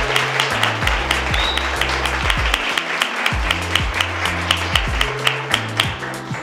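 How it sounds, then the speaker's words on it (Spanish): An audience at a women's conference in Atlanta applauding for Andri Palacio, a dense, steady patter of many hands over booming background music. "Un fuerte, fuerte aplauso a Andri."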